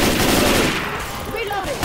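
In the Left 4 Dead 2 Dark Carnival level, rapid automatic gunfire rattles out in a dense, loud burst. A voice is briefly heard over the shots.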